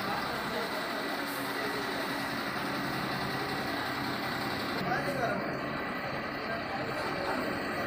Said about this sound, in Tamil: இப்போ டாடா வண்டி வந்து நிறுத்திட்டு இருக்காங்க.